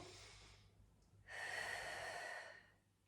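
Breathing during a wall squat core exercise: a brief exhale, a pause, then a long, strong breath in that is close and clear and fades away at the end.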